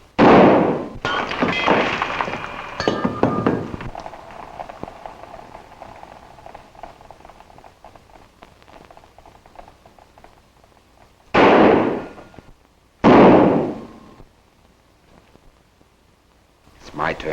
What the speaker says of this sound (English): Let's get down to some fancy Oklahoma shooting.